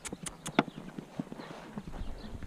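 Hoofbeats of a calm gaited mare cantering, a steady clip-clop rhythm of soft hoof strikes close by, with a brief snort or whinny-like burst early on.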